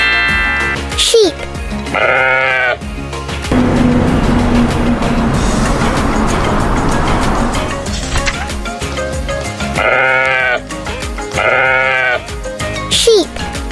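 Sheep bleat repeatedly in loud, wavering calls, with a burst of busy noise in the middle and a short voice naming the animal.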